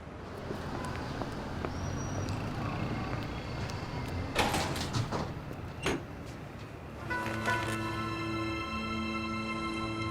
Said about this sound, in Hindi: मैं दरवाजा बंद करके आता हूँ।